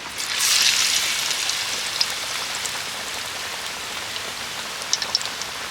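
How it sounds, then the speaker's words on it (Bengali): Raw potato and flour batter fritters fry in hot oil with a steady, dense sizzle and scattered crackling pops, with no talk heard. "এখান থেকে একটা করে গোলাতে চুবিয়ে তুলে এইভাবে তেলের মধ্যে আমি ছেড়ে দেবো"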